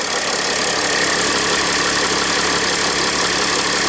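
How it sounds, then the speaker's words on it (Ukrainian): A Mercedes ML320 engine idles steadily and loudly, a continuous rumbling drone with no voices. "Мені не подобається, якби двигун працює."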